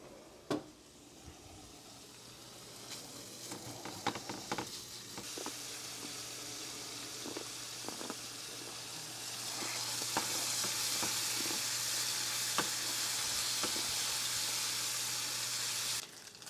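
Bacon sizzles in a pan as its fat renders, a steady frying hiss that builds louder midway, broken by scattered clinks and scrapes from a slotted spoon, near and without speech.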